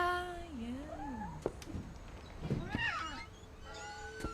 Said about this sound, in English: It made like cat noises.